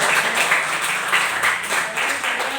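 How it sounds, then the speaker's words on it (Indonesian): Students in a classroom clap their hands together in a steady, mid-level burst of applause that runs throughout, without pauses, with a little speech mixed faintly underneath. "Tepuk tangan buat saya"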